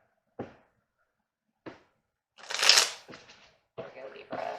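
A deck of tarot cards shuffled to pull a single card, with two short isolated taps followed by a louder riffling burst and several quick papery shuffles, close and clear.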